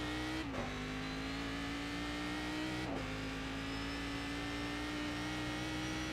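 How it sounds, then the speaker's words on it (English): A race car engine accelerates in the iRacing simulator at Bathurst, a loud, steady high-pitched roar that climbs in pitch and dips briefly twice with gear shifts, running continuously with no talk. "Nice late turn in to get on the throttle nice and quickly."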